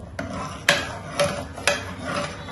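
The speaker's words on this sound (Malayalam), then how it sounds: "നന്നായിട്ട് മിക്സ് ചെയ്ത് കൊടുക്കാം" A spoon scrapes around a pot of jackfruit and green gram payasam after milk is added, with rhythmic rasping strokes about once every half second, close and fairly loud.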